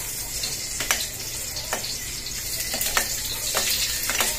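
Garlic and onion fry in a hot wok, a steady sizzle with scattered crackles and pops, close and moderately loud.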